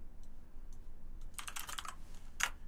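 Keys tapped on a computer keyboard while entering commands in a terminal: a few faint isolated clicks, then a quick flurry of louder keystrokes and one final sharp tap, all alone in a quiet room.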